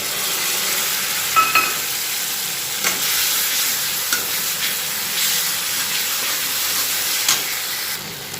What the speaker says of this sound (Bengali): রসুন আর লঙ্কাটাকে একটু ভালো করে এই মশলাটার সাথে ভেজে নেব